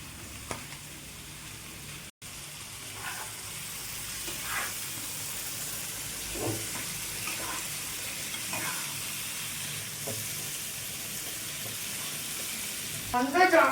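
Chicken pieces fry in oily spice masala, a steady close sizzle with soft stirring shuffles, growing briefly louder and crackling near the end.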